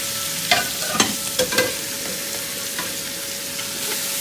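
Sri Lankan mutton curry cooking, with fried mutton stirred in a spice tempering pan with chopped curry leaves. A few scraping, clattering strokes land in the first two seconds over a soft, steady sizzle, then it settles into a quiet fry.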